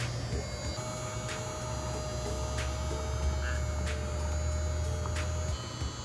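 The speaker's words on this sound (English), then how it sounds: "this is what I got out of the Hello Kitty vanity vacuum cleaner thing" A small Hello Kitty vanity vacuum cleaner runs with a steady electric hum and whine, close and continuous, with faint regular ticks over the motor drone.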